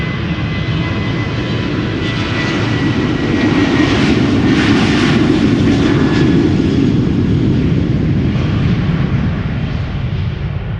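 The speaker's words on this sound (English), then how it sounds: "This is KLM flight 1167, the 737 outbound to Helsinki, Finland" A fifteen-year-old KLM Boeing 737 jet airliner departs Schiphol Airport for Helsinki, its engines a loud, steady roar that swells to a peak and holds across the whole stretch without any voices.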